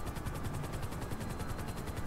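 A helicopter in the video game GTA 5 with rapid, evenly pulsing rotor thumps throbbing steadily at a moderate distance, dense and continuous with no talk.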